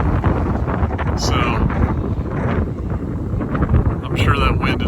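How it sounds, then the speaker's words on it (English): Heavy wind buffets the microphone in a constant low roar at a cemetery in Texas, with faint voices barely audible underneath. "I'm sure that wind is destroying everyone's ears on this video."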